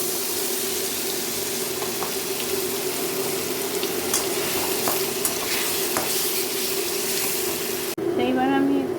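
Garlic, ginger, onion and green chilli paste frying in a kadai for dahi chicken, a loud steady sizzle with occasional scrapes and clinks of stirring, cut off near the end by a brief burst of voice.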